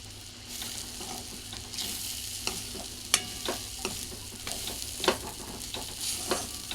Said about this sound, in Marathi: जे भाजून ठेवलेले तुरीचे दाणे आहेत ठेचलेले अर्धवट ते घाला ते घालायचं आणि छान असं परतून घ्यायचं